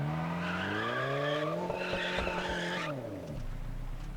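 A blue sports car in the game Test Drive Unlimited: Solar Crown revs hard while reversing on rocks, engine pitch climbing and dipping as tires squeal and skid, the whine easing off near the end.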